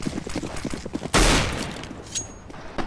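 Gunfire erupts in a Counter-Strike: Global Offensive match, a rapid burst of shots followed by one loud close blast that rings out and fades, with a faint later report.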